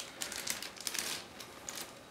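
A small plastic bag holding a model kit sprue is handled and opened, giving faint crinkling and light rustling with a few soft clicks, close and quiet, with no talk.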